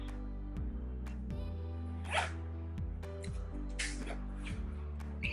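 A zipper on a small drone travel bag for a Mavic Air is pulled open in a few quick rasping strokes, close and fairly quiet over a low background hum, with no talking.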